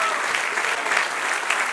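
A church congregation applauds in a dense, even burst of clapping that lasts briefly at a steady level.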